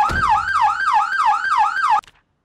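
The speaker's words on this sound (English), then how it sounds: "not mute that last 3 seconds of the siren being on" A vehicle siren in the Project Zomboid video game wails in a fast, regular up-and-down cycle, loud and close, repeating steadily for two seconds before cutting off abruptly.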